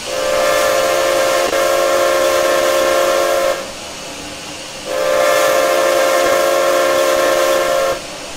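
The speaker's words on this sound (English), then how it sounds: "it's the Northern Pacific locomotive" Northern Pacific steam locomotive whistle in the Trainz 2019 train simulator, two long loud blasts separated by a short pause, over a steady hiss of steam.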